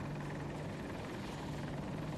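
AH-64 Apache attack helicopter in video game combat, its rotor giving a steady, loud, continuous beating drone with a constant low hum and no talk.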